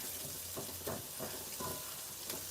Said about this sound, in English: we just want to caramelize the onions a little bit so all the flavors can get in here